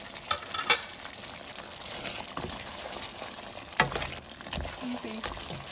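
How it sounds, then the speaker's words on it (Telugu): A chicken curry cooks in a pan while coriander is stirred in, with a low bubbling sizzle, a few scraping knocks from the spoon and a short clatter near the end. "చివరగా కొత్తిమీర వేసుకొని కలుపుకోవాలి."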